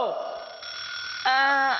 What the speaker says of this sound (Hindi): अरे सुबह सुबह ये अलार्म क्यों बजने लगा?